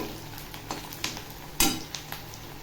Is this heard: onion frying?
yes